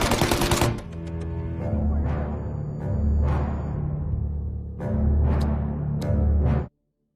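Rapid gunfire from a firefight in Mafia: Definitive Edition: one dense, loud burst opens, then several shorter volleys follow in an uneven rhythm before cutting off abruptly.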